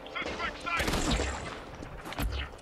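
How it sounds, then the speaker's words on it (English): Several sharp gunshots in Infamous Second Son, clustered in a quick burst near the middle and another shot near the end, loud and close amid game noise. "I'm shooting him in the head."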